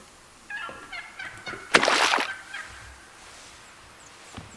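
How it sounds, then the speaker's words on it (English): Wild turkey hens yelp from several directions in The Hunter: Call of the Wild, mid-distance and moderately loud. A short, noisy flurry of calls peaks near the middle, and quieter background ambience carries on after it. "Got a pile of hens calling."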